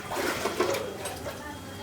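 Water drawn by hand with a pull mechanism, a gushing, splashing flow in short surges, close by, with people talking over it.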